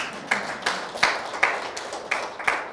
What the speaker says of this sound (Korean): 이분들을 위해서 박수 한번 보내주세요.